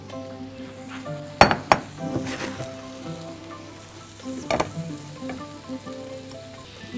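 Noodles in sauce sizzling in a pan while being stirred, with a couple of sharp utensil clinks against the pan over a steady frying hiss, close and with no talking.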